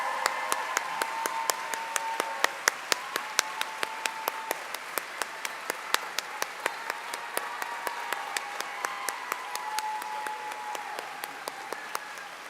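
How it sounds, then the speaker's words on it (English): Steady applause from a graduation ceremony audience, dense clapping with a few sharp, louder claps standing out, holding at an even level throughout without any talk. "I'm sure you would like to join me in giving them a warm round of applause to thank them for encouraging you to achieve the best."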